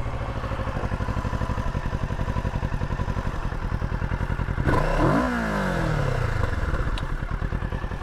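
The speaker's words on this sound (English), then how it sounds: "turn it on, and see an exhaust note" Idle of a 2022 Kawasaki Z650 RS engine, a steady pulsing exhaust putter that swells into a sharp rev midway, then falls back to an even idle, loud and close with no talking.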